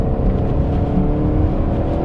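A 4-cylinder Ford Mustang EcoBoost with a Revo tune revving, a loud, close, sustained engine drone with a raspy exhaust note and no talk over it.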